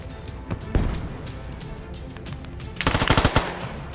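Automatic gunfire in the military shooter Squad as players shoot out a vehicle's tires: a few scattered shots, then a loud rapid burst of about eight close rounds near the end.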